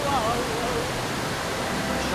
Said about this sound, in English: as I stared at this waterfall in complete awe